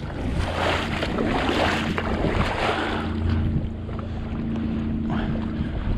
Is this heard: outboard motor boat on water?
yes